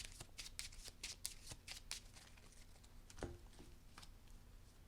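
Cards handled and drawn from a deck during a tabletop game of Marvel Legendary, a quiet run of quick, crisp flicks and taps, then a few softer slides.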